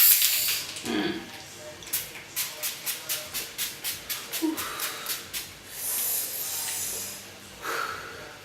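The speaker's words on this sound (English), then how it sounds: "I'm using the L'Oreal Infallible Fixing Mist to set my whole face" L'Oreal Infallible Fixing Mist is sprayed onto a face in a quick run of about a dozen rhythmic, close hissing pumps, with softer breathy hisses before and after.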